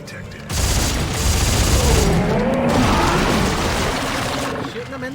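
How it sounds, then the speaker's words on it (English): Sustained burst of gunfire from the sci-fi horror shooter Dead Space 3, a dense, loud roar of rapid shots filling most of the span, ending with a brief quieter tail. "Shooting him in the dick."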